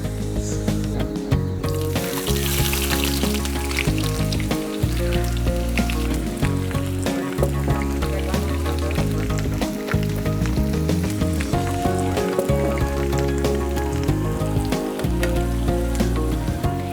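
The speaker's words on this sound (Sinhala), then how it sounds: "අපි කපාගත්ත ලුණු ටික ෆ්‍රයි කරගන්න ඕන" Chopped onions fry in a pan with a continuous, dense crackling sizzle that runs throughout, partly buried under steady background music.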